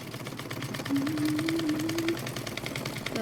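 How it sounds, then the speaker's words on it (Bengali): A sewing machine stitching a baby's palazzo pants runs in a quick, steady mechanical chatter at close range for about three seconds, with a faint tonal whine in the middle. "এভাবে আমরা পুরাটাই সেলাই দিয়ে নেব"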